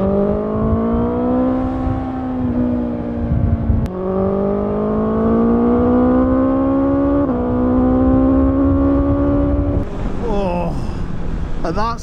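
A 2020 BMW S1000XR motorcycle engine revs hard toward 8,000-9,000 rpm, a loud rising whine climbing in pitch twice with a brief shift break, then fading into wind noise near the end.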